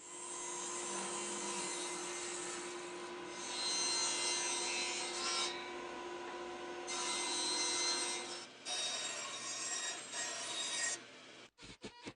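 Wood is cut away from a homemade wooden dust collector manifold, a steady rasping, sawing drone that swells and eases in stretches, then stops and ends with a few sharp knocks.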